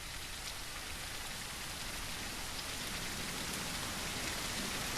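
Heavy pouring rain in the zombie survival video game Surroundead, a dense, constant hiss of water on surfaces with no pauses, fairly close and even throughout.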